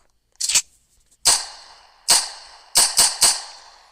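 Six sharp gunshots from an MP-40 submachine gun in Roblox WW2 Tank Simulator, a lone shot followed by spaced single reports and a quick closing burst, each with a short ringing decay and silence between.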